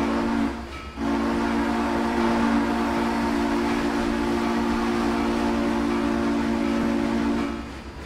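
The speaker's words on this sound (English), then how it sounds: "I'm blowing my whistle like crazy" A steam train whistle in the Trainz railway simulation game, blowing in one long, loud, continuous blast that lasts several seconds before tapering off.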